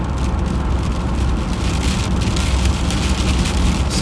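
Sleet falls steadily during a lake effect snowstorm in southwest Michigan, a dense, continuous hiss and patter of icy pellets hitting surfaces, loud and unbroken throughout.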